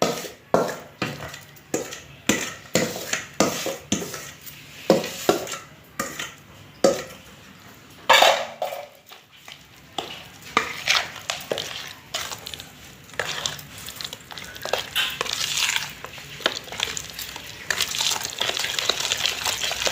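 Tomato pickle with oil being stirred in a pan, with repeated close scraping and knocking of a spoon against the pan in an uneven rhythm, joined by a soft frying sizzle and no talking.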